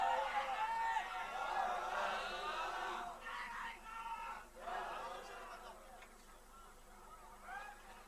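A large gathering chanting back after the Nara-e-Takbir call at a religious speech, many voices shouting together in a loud, sustained roar with rises and dips, close and dense.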